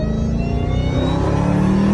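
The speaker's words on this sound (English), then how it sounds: "I decided to throw a Hellcat engine in this old Honda Accord" A Honda Accord fitted with a swapped Hellcat engine runs close by, a loud, steady low-pitched rumble with rich harmonics and a slight rise in revs toward the end.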